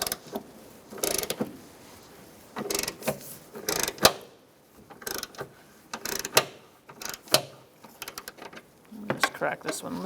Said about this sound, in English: Using a 14 millimeter socket, we're going to take out these bolts.